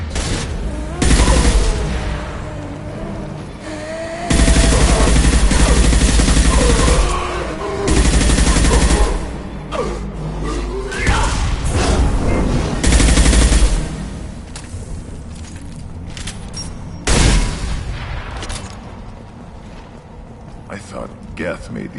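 Heavy video game gunfire from Mass Effect 2 as high-pressure tanks are shot out: loud bursts of automatic fire and booming explosions come in repeated waves over about twenty seconds, with a voice talking between them.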